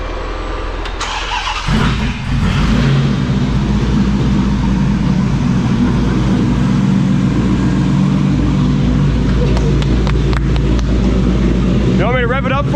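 A custom car running loud aftermarket exhaust instead of its original mufflers cranks and catches after a quiet moment, then settles into a heavy, rumbling idle that stays close and loud to the end.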